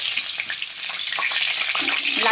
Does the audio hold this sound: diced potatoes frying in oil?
yes